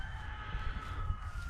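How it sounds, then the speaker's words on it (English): A backyard rooster crowing in a spring garden, a single drawn-out call carried at moderate distance, faint but clear over low outdoor rumble. "Here's my rooster crowing"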